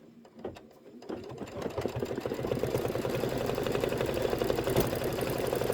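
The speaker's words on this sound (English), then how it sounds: "And then you're going to just keep stitching out white." An embroidery machine stitches out part of a design in white thread, a steady rapid whirring hum that starts quietly and then runs continuously, close and alone without voices.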